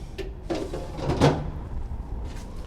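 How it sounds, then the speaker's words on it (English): Plastic crisper drawers in a refrigerator slide open and shut, giving a few close scraping rolls and a firmer bump in the middle, with no talk over them. "The crisper drawers are functional."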